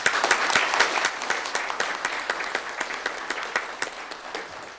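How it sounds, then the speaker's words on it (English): An audience at a town council meeting applauds a soccer team with a dense, steady round of clapping that carries on for about five seconds and eases slightly toward the end. "So one more round of applause for them."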